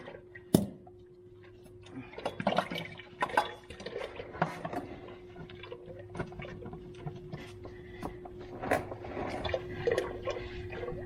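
Hydraulic fluid draining from a Branson 20 series tractor during a 50-hour service, heard as faint irregular drips and trickles landing in a catch pan, with scattered ticks and light knocks around it.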